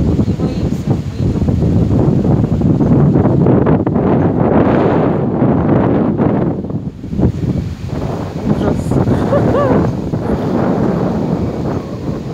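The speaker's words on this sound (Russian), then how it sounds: "Ветер просто пронзающий." Strong, piercing mountain wind buffets the microphone at about 900 metres altitude, a loud continuous roar with gusty surges and a brief lull midway.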